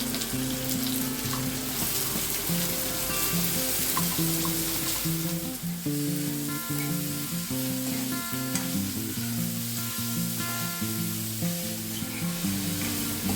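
Sliced onions sizzle steadily in hot oil with garlic in a pan for an oyster masala, a continuous close frying hiss with faint clinks, no talking.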